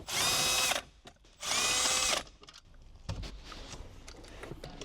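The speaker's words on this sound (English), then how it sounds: "Let's remove those two 10mm bolts." A power tool backs out two 10mm bolts on a Lexus CT 200h during a dash panel job, giving two loud close whirring bursts of about a second each, followed by quieter clicks and handling noises.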